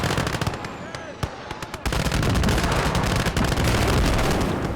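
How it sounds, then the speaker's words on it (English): A heavy mechanized battle from a war video game, set during the German offensive of Operation Spring Awakening. Mortar fire and explosions produce a dense, continuous barrage of sharp blasts and crackling impacts, loud and irregular, intensifying partway through. "Mortar still going for full effect here."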